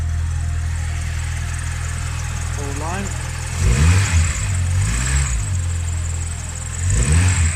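A 1998 Vauxhall Corsa's 1.4-litre non-Ecotec engine runs steadily with a low rumble, briefly revving a couple of times, while a person speaks.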